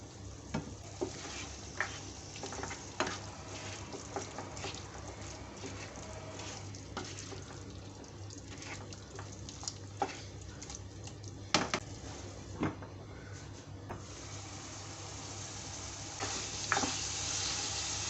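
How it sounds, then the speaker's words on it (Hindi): Beef liver masala (kaleji) cooking covered over a low flame, a soft continuous sizzle with occasional clinks and taps of a pot or lid scattered over it, close and fairly quiet. "अब मैं इसे कवर कर दूँगी और बिल्कुल लो फ्लेम पे इसे कलेजी के गलने तक पकाऊँगी"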